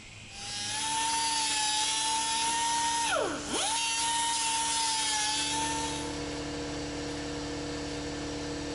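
A power cutting tool slices a metal tab off a Jeep during an LS engine swap, a steady high whine with one brief dip in pitch midway through the cut, then a lower running hum.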